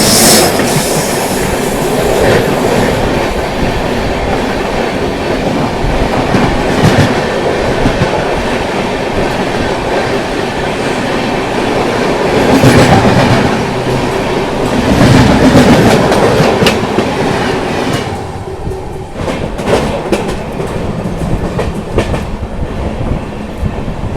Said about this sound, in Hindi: ये देखिए सामने से आ गई नॉर्थ बिहार की आन बान शान और मेरी फेवरेट ट्रेन बिहार संपर्क